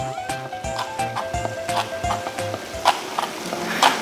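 A knife cuts cucumber into thin julienne strips on a cutting board for a minari dish, making quick, even, close knocking chops, then sharper clicks near the end over a faint steady tone.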